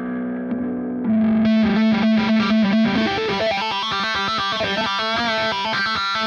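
Electric guitar through the Neural DSP Archetype Petrucci amp plugin, starting with a single sustained note and then breaking into a fast, heavily distorted, palm-muted riff with tight, chugging rhythm, loud and close.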